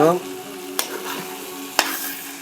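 Egg bhujia with tomato and onion stirred in a frying pan, a soft continuous sizzle with two sharp scraping knocks of the spatula against the pan, close by and free of talk.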